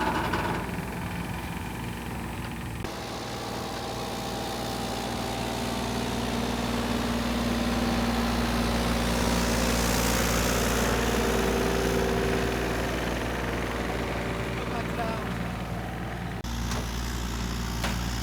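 A mini excavator's engine idling steadily, a constant low droning hum with a slight swell in loudness midway, near and alone without voices.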